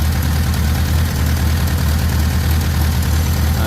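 A 1972 Toyota Corolla TE28 with a carburettor idles after its idle was turned down, a steady, close, low rumbling hum with an even pulse and no voices.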